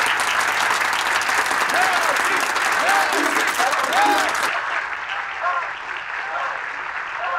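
Dense, steady applause from an audience after an award speech fills the first few seconds, then drops to a softer, muffled clapping as if heard through a television, with voices faintly underneath.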